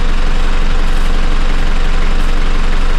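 A vehicle engine runs loud and close after the shifter pops into gear, a steady low rumbling drone with no pauses.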